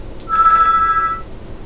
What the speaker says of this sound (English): Windows ringing. Ring in wave.